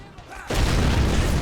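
A cannon shell explodes in Men of War: Assault Squad 2 during an 18th-century Bunker Hill battle, a sudden loud boom that lingers as a dense, rumbling roar.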